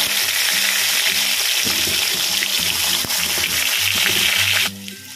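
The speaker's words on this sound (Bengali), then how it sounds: "একইভাবে আলুগুলো ভেজে নেব।" Potatoes frying in hot oil for a cauliflower-potato tangra fish curry give a loud, steady sizzle with occasional stirring scrapes, then the sizzle drops abruptly near the end.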